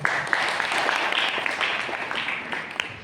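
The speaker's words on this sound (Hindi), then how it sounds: "एक बार बच्चों के लिए जोरदार ताली बजा दो।" A live audience applauds children at a Jain religious talk, dense steady clapping filling the room for about three seconds with no speech over it.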